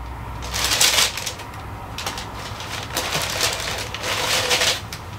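Standard packing paper rustles and crinkles inside a Nike Air Ghost Racer sneaker box, a close, continuous dry crackling that swells and fades in waves as it is handled.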